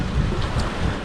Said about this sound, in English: the wind is like 16 knots,